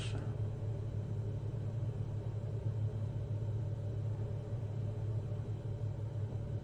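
A Protherm Lynx gas boiler running, a steady low rumbling hum with a faint tonal drone, continuous and even, close by with no other sounds.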